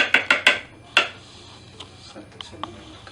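A spoon clinks against a bowl while colored dough is stirred until evenly mixed. Four sharp taps come in quick succession, then a few quieter scattered clicks over a low background hum.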